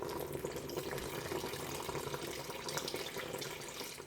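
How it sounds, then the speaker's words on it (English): Water is poured into a pot of boiled bananas while making Samoan suafai dessert, a steady running, splashing stream that carries on without a break and with no voices. "And if you find it getting thick, you add more water."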